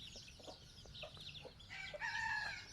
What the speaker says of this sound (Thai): ได้ไก่ตัวเมียสี่ตัวครับ